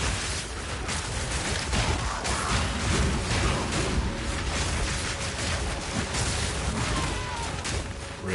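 Explosions in the action video game Path of Exile 2 come as a dense barrage of booms and crashes, loud and continuous throughout.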